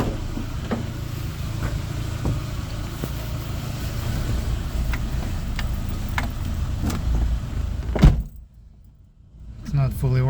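A 1990 Toyota Sera with a custom idle control valve, heard from inside while driving: a steady low engine and road rumble with scattered clicks and rattles, then a brief dip toward quiet before the drone resumes.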